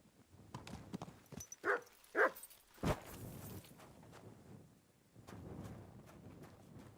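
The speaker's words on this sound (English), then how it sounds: "You silly doggy." A dog in the medieval game Kingdom Come Deliverance II gives two short, sharp barks close by, followed by a third brief yelp, over quiet ambient clatter that resembles hoofbeats.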